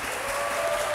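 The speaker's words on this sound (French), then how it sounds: "Je voudrais qu'on puisse applaudir pour lui." Studio audience applause, a brief dense burst of clapping heard at close range and with no talk over it.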